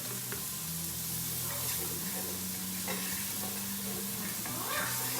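Garlic and shallots fry in a pan alongside veal and mushrooms, a soft continuous sizzle with occasional stirring scrapes, fairly quiet and steady throughout.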